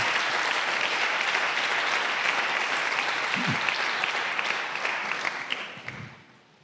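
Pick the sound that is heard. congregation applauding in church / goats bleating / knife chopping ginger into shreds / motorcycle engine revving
congregation applauding in church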